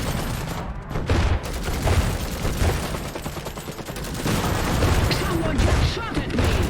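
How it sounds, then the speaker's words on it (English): Dense gunfire rattles through a battle in the mech strategy game Iron Harvest, with loud continuous volleys, overlapping shots and heavy thumps filling the whole stretch. "now they're shooting"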